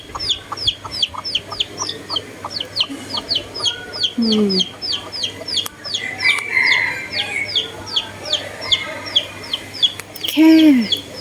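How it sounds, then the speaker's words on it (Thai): Chickens cluck and chatter continuously in a rhythmic chorus nearby, with occasional louder squawks and a person murmuring briefly. "มีนกยุงอยู่หนึ่งตัวกลมกลืนกับไก่มากเลยค่ะ"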